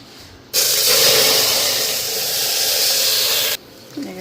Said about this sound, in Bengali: এদিকে ডাইলটা একবারে সম্বাদ দিয়েই বসাবো